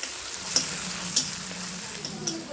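Spice paste for a Lailontika fish curry sautés in a pan with a soft, continuous sizzle, broken by a few faint clinks of a utensil stirring against the pan.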